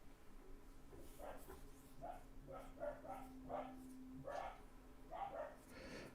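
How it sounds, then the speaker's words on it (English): Two cockapoo dogs bark repeatedly in the distance, faint yips and woofs coming in quick bursts over a steady low hum. "May hear a bit of barking in the background."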